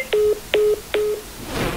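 Three evenly spaced telephone keypad tones, each a crisp paired beep, sound loud and close while a call is being placed, followed by a soft burst of handling noise.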